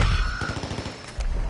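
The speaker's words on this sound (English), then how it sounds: "I heard gunshots" Rapid burst of automatic gunfire in the battle royale game Call of Duty Warzone, a quick run of close, sharp shots followed by a heavier blast.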